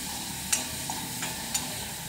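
Chopped cabbage and vegetables sautéing over onions in a pan, a constant low hiss of frying broken by several sharp scrape-and-clink stirs of a spatula, close and without speech.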